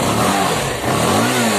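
A Bajaj Pulsar 220 motorcycle engine running after a CDI replacement, revving up and dropping back in a steady close, loud drone with rising and falling pitch, no talking.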